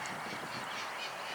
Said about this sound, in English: if you hear birds in distress, now it's probably just recordings of birds to scare away any birds that might come around.